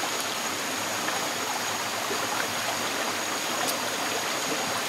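Running water pours steadily and fairly loudly, hissing without a break, as a turtle is washed under it in the Borneo jungle.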